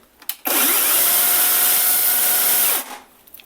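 A Procraft PCA42/2 cordless electric chainsaw starts up for the first time, with a loud, steady high-pitched motor whine that runs for about two seconds and then winds down, with no voices.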